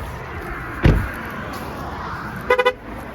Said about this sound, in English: all of a sudden I'm honking in the middle of literally nowhere